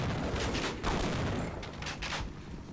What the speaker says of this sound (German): Können Sie mal bitte aufhören, Granaten zu mir zum Schmeißen?